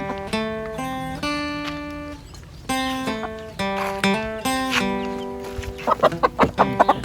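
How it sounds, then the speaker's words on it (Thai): Free-range native breed village chickens clucking close by, a series of drawn-out, tonal clucks and squawks from several birds overlapping, ending in a quick run of short clucks, no speech. "มาดูกันเลี้ยงไก่"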